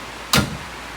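A single close, sharp clack of a tube door on a Jeep Wrangler JK swinging shut, followed by quiet.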